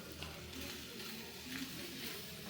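Okra dry-roasting in a pan before it goes into a Kannada-style palya, giving off a steady, soft sizzle with faint crackles and stirring that continues without pause, quiet and close.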